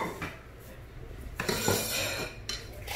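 A Japanese metal cooking pot of about three and a half liters is handled at a sale, giving close, sharp clanks and clinks of metal on metal in irregular bursts.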